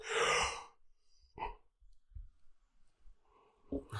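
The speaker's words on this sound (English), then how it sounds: "Big yawn" One big, breathy yawn from a person close to the microphone, followed by quiet breaths and a few soft clicks.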